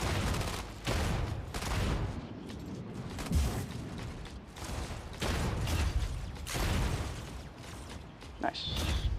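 Mortar fire in the video game Mech Arena comes as repeated heavy blasts blended into dense, continuous battle noise, with players talking over it.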